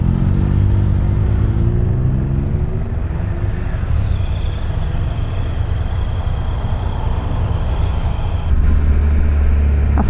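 A Can-Am Canyon three-wheel motorcycle rides along with a loud, steady engine roar and heavy wind rumble, its pitch shifting slightly as the engine works, close and continuous throughout.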